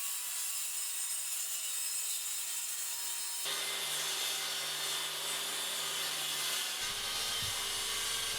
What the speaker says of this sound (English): I'll use the circular saw and its parallel guide.